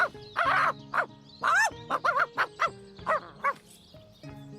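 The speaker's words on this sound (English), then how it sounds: "Looks like that dog is awfully agitated" An agitated dog in Divinity: Original Sin barks and yips in a rapid, irregular burst of about a dozen sharp, close, loud calls with short pauses between them.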